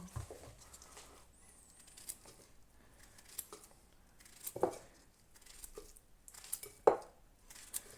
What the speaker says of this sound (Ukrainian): Тут, де вони вже пішли товстіші, нарізаємо їх вздовж на опіл.